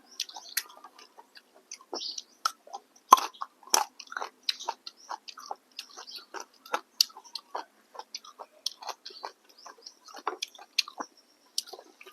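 Crisp fresh vegetables are chewed close up, served alongside a spicy jaew dipping sauce, giving a rapid, irregular series of sharp crunches and wet bites with quiet gaps between them and no speech.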